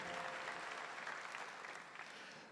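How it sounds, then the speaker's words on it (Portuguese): A church congregation applauding during a sermon, a faint, distant, even wash of many hands clapping that holds steady and tapers slightly at the end. "Dá uma salva de palmas para ele."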